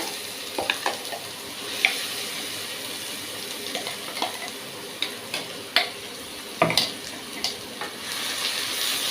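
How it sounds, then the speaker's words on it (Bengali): Mashed yardlong bean paste stirred in a pan with a spatula produces soft sizzling and irregular scraping taps, close and quiet, with no voices. "খুন্তি দিয়ে এটাকে নেড়ে চেড়ে নেব।"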